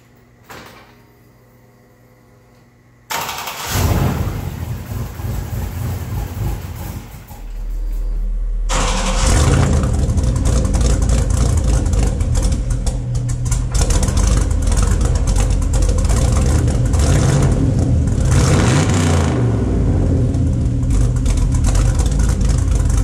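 An LS V8 in a 1938 Pontiac, freshly installed, starting for the first time: a quiet moment, then several seconds of loud cranking before the engine catches and settles into a loud, steady, rough idle with slight rev changes.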